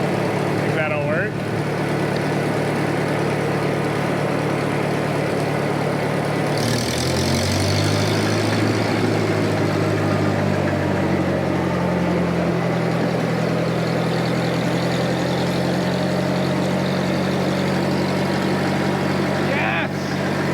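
Bobcat T870 compact track loader engine running steadily as the machine is driven, a constant heavy diesel drone with shifting pitch, with people talking over it.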